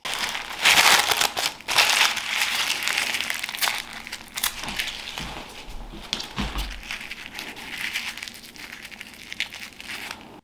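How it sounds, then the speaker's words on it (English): Tissue paper crumpled and bunched into a small ball for a paper cherry craft, a steady, close run of dry crinkling and crackling for about ten seconds, louder near the start. "Continue to bunch up the tissue paper as you go"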